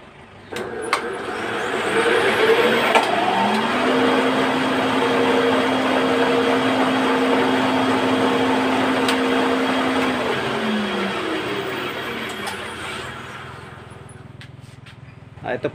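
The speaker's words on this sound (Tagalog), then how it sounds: "bali dalawa na po yung makina guys, yung electric motor." Two electric motors of 1.5 hp each power a homemade 3 HP thickness planer. They spin up to a steady, loud, whining hum that holds for over ten seconds before winding down, heard close up.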